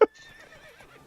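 Roach, a horse in The Witcher 3, lets out a short, sharp whinny at the start that trails off into quieter rustling and soft background sounds.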